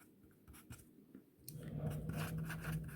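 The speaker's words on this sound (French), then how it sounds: "Donc, on va les écrire ici." Marker or chalk strokes writing verb names on a classroom board, quiet scratchy rubbing bursts that grow steadier and slightly louder in the second half, close by with no talk.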